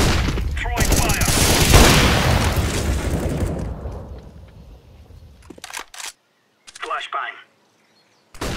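Incendiary grenade fire in Counter-Strike: a loud, crackling burst of flame and explosion noise that roars for a few seconds, then fades out, followed by a couple of brief separate sounds with gaps of silence.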